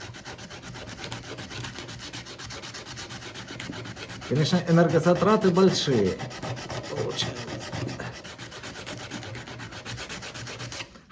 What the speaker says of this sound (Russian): Это вот шлифование вручную называется.